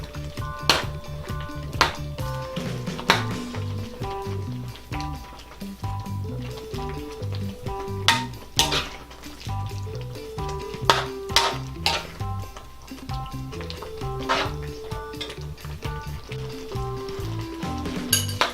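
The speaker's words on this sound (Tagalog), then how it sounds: "Tapos hahaluin lang po natin para maluto ang ating patola." Sponge gourd (patola) with misua noodles and sardines sizzles steadily in a pan, while a utensil scrapes and taps the pan in an irregular rhythm throughout.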